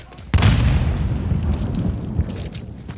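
A grenade blast in an online first-person shooter match, a loud booming burst that hits at once and trails off into a long rumbling decay, with faint game noise beneath.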